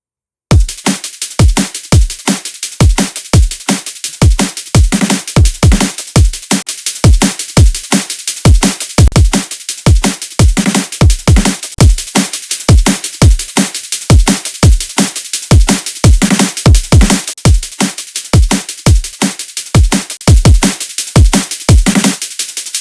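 Drum and bass remix drum loop hitting hard and steady, punchy kicks and snares in a fast regular pattern, with the drum bus muted and unmuted so the glued character shifts slightly, no talking.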